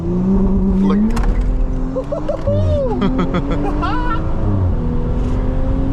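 A Stage 2 Audi S4 brakes hard on a road, its engine and tyres loud and close, with people talking over the noise.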